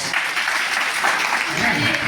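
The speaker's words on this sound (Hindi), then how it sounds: "वाह वाह वाह, तालियां।" Audience clapping at a teacher-training college orientation program in Bihar, a steady wash of hands under a faint voice.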